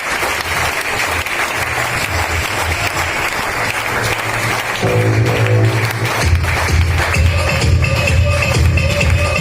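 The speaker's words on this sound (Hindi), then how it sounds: "हम उसके लिए तालियां बजाएंगे, जबरदस्त तालियों के लिए।" Loud, sustained applause from a large crowd at an event as a guest is called up on stage, thick clapping running throughout over rumbling music or background tones.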